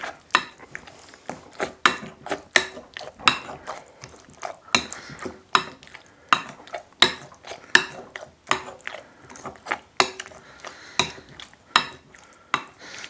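Regular thuds and scrapes of a spoon or masher working squash into gluten-free bun dough in a bowl, close and steady, about one stroke per second, with no talking.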